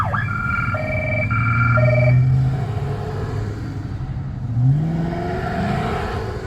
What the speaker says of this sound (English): Sorry about the sirens, man.